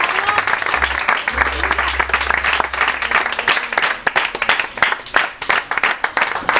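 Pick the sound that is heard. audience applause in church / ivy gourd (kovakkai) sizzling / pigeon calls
audience applause in church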